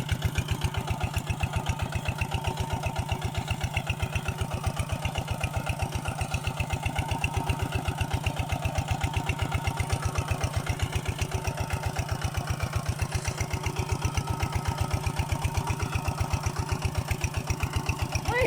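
A single-cylinder walk-behind tractor engine idles steadily nearby in a cassava field, its rapid even chugging continuing without a break the whole time.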